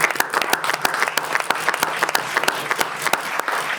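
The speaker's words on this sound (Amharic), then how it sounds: "አጨብጭቡ" A studio audience on a television game show claps in sustained applause, a dense, even patter of many hands that stays bright and loud throughout, with only faint crowd murmur underneath.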